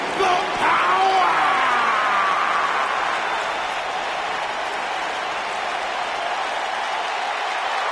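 Crowd applause and cheering from an arena audience in the wrestling video game WWE 2K19, a loud dense roar that swells at the start and then holds steady throughout.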